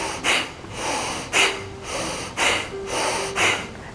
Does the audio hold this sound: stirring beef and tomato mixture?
no